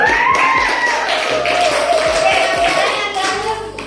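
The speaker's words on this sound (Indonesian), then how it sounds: "Ya, kasih aplaus lagi." A class audience applauds during a school teaching practice session, with dense, steady clapping from many hands sustained loud throughout, and a few sharper individual claps standing out.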